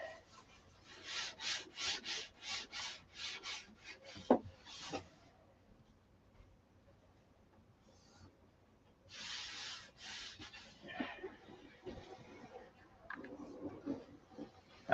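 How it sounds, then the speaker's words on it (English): Hand sanding of a painted Viper model with fine-grit sandpaper, a run of quick rhythmic rasping strokes, then a pause, then more scrubbing. The sound is close and fairly quiet. "sand it before I shoot another color on it. So we'll just do that now."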